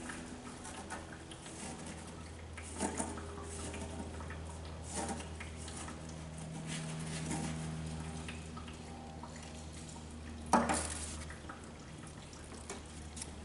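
Diesel fuel drips faintly from a clay oil spill cleanup product, with a few scattered soft drips and one sharper splash against a quiet background.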